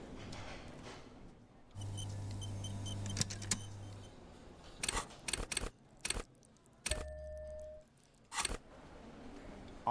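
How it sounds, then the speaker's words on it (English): Gary, a robot in a detective game, gives off odd mechanical sounds: a whirring hum, then sharp, irregular clicks and ticks, quiet overall, with some brief tonal servo-like buzzes between them and no speech. "Once more, you hear that odd clicking sound coming from Gary."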